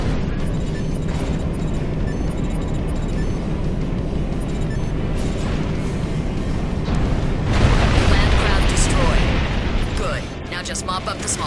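A landcraft explodes in the video game Armored Core: For Answer, a loud, dense roaring blast that swells near the end over constant rumbling battle noise and gunfire.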